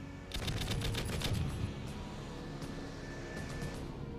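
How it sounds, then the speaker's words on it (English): A fighter jet's cannon fires a rapid warning burst of sharp, closely spaced shots over a steady engine drone, then falls away, leaving only the continuing hum of the aircraft. "Give warning burst with cannon."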